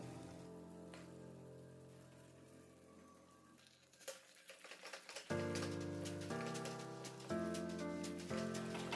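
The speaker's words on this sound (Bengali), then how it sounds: "এরপর এতে এক এক করে মাংসগুলো দিয়ে দেবো।" Mutton pieces hit a hot pan over a low gas flame, a brief crackling sizzle that rises partway through and stays under steady background music.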